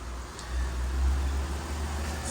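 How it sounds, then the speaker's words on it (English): A 2013 Ford Explorer engine idles smoothly after an ignition coil repair, a steady low rumble held close and even for the whole stretch, with no talk over it. "this engine now is running smooth"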